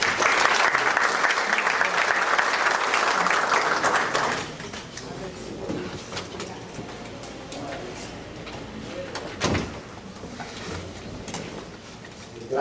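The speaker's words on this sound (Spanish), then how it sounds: "Lo recibimos con un fuerte aplauso." An audience applauds to welcome the CEO of the US Olympic Committee at a sports development event in Peru: loud dense clapping for about four seconds, then it drops away to sparse claps, room noise and faint movement.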